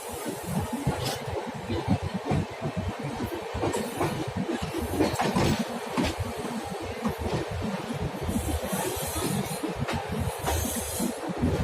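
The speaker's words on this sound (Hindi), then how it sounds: "हमारी ट्रेन कर्व ले रही है" The Jallianwala Bagh Express passenger train runs on rails between Delhi and Amritsar, heard as a steady rumble with rhythmic clicks, rattles and light squeals from the wheels and carriages.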